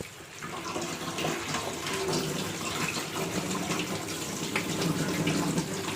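Water runs steadily from a tap in a continuous close splashing rush, as if rinsing something in a sink, with no voices.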